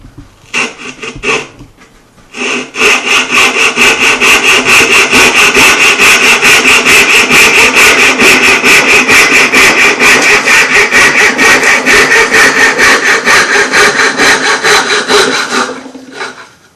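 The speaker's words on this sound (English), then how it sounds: "what a coping saw is and how it works" A coping saw cuts wood for a cigar box mandocello, a loud, fast, even rasping of back-and-forth strokes that runs steadily for about fourteen seconds after a few short starting strokes, with no talk.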